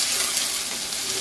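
Garlic and coriander stems fry in hot oil, giving a close, continuous hiss and crackle that stays even throughout.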